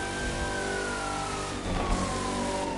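A car engine in the racing game The Crew 2, pulling hard as it accelerates and shifts up through the gears, with a rising, steady drone and a rising whine, loud and close with no talking.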